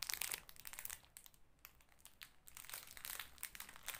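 Polythene plastic packaging crinkles and rustles close up while a product is unboxed, a soft, continuous crackle with brighter bursts at the start and end.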